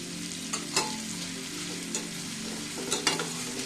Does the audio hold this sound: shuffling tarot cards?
no